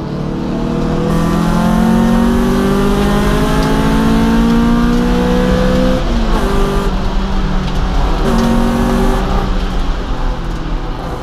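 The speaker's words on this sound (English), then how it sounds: "The car's a 91 Honda CRX" A 1991 Honda CRX race car built from a junkyard car runs loud and close, its engine droning and revving through several gear-like pitch climbs in a continuous roar, with no talking.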